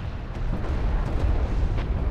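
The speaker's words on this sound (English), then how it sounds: "Hostile strike craft down." A strike craft shot down and exploding in the strategy game Deserts of Kharak, heard as a deep, rumbling blast that rolls on continuously for about two seconds.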